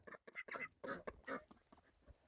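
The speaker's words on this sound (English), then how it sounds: "I can let the ducks out while I'm going this way. Because they at the door." Several ducks quacking close up at a farm pen door, a quick run of loud, overlapping quacks with no talk over them.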